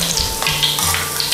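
Pork pieces marinated in fish sauce and a crispy batter sizzle and crackle steadily as they deep-fry in hot oil, a dense, continuous hiss with small pops and a few faint scraping stirs.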